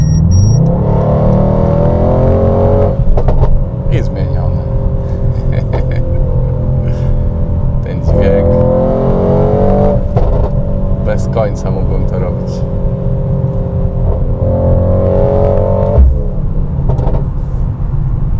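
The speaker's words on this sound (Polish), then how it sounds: "w tym trybie Sport Plus wydechu, to jest absolutnie zjawiskowe" A Mercedes-AMG GT 63 4Matic+ engine revs and accelerates repeatedly in Sport Plus exhaust mode under continuous talking, its exhaust note rising and falling through several throttle pulls.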